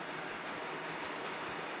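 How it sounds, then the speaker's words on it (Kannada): Steady broadband rumble of a train passing on a rail line near Ballari, continuous and fairly faint, with no voices. "ಟ್ರೈನ್ ನೋಡಿದ್ರಲ್ಲ ಫ್ರೆಂಡ್ಸ್"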